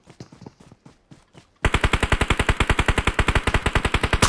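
Rapid automatic gunfire in a video game match, a long steady burst of loud, evenly spaced shots following a few quieter scattered shots.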